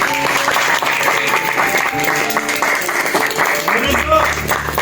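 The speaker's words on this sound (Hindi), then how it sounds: "तालियां जोर से बजाएं" A congregation at a New Year's night church gathering claps loudly, a dense sustained wash of applause mixed with voices and tonal music, without any pause.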